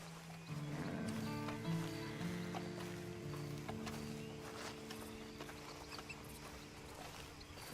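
Horse hooves clopping at a walking pace in Red Dead Redemption 2, soft and moderately close beneath sustained low tonal music.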